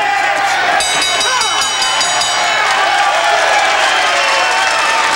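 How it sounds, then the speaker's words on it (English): A boxing arena crowd roars and applauds at the close of a Kennedy McKinney fight, a dense, loud, continuous wall of cheering with whistles and shouts throughout. "listen to the crowd for Kennedy McKinney."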